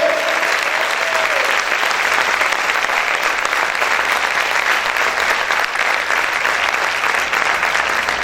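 Sustained, loud applause from a church congregation, many hands clapping in a thick continuous roar that holds evenly throughout, with a brief voice near the beginning.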